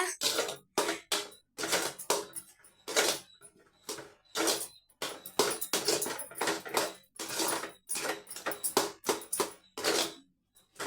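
A utensil scrapes and clatters against a pan while food is stirred in ghee, a steady run of irregular metallic knocks and scrapes, fairly close, with no one talking.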